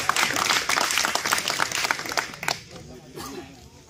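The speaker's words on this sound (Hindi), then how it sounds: "जोरदार ताली बजा के इनका स्वागत करिए" Crowd applause at a political rally in Mau: steady, dense clapping for about two and a half seconds that then fades out as voices take over.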